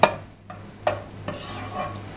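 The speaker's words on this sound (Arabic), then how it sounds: "اول حاجه بنزل بيها البصل، بس بعد ما السمنه تسيح او الزبده تسيح كويس" Onions frying in melted ghee or butter, a soft sizzle under a few wooden-spoon stirs and light clinks against the pan, close by with no talk.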